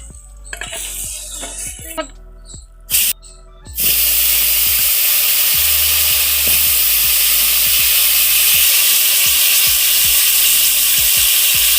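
Potatoes frying with salt in a wok (kadai): a few clinks and scrapes first, then a loud, steady hiss of sizzling oil filling the rest, close by and with no voices.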